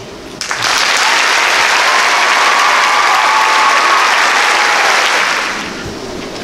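Audience applause after a speech at a benefit concert for Prado, a full crowd clapping loudly and steadily for several seconds before tapering off, with a brief word of thanks at the start.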